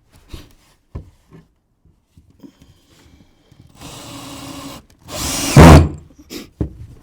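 Power drill driving screws into loft boards in a new-build garage being converted to a workshop: a sustained whir of about a second, then a louder, harsher burst as the screw bites, with scattered knocks and handling clatter around them.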